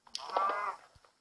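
A cow in the video game Minecraft lets out a single short, mid-pitched moo, close and clear against a quiet background.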